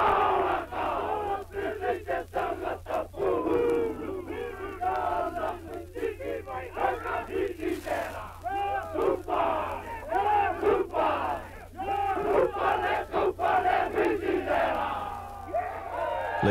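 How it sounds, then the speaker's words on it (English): Many soldiers raise Maori haka war cries from ridges on a battlefield, a sustained crowd of rhythmic shouted chanting with sharp collective bursts at a middling distance. "Owing to the Maoris being distributed, the haka came from every ridge"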